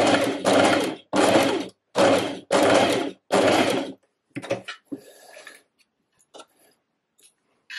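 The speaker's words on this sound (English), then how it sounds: "going to sew straight off again." A sewing machine stitches a dress seam in five steady bursts of rapid mechanical running, each about half a second long with short pauses between, followed by faint handling clicks and rustles.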